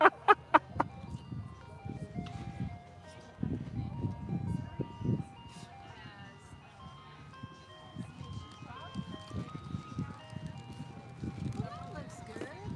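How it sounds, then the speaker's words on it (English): An ice cream truck's tinkling melody drifts from a distance over a park neighborhood, its repeating tune running faintly beneath frequent nearby conversation. "Good old ice cream truck."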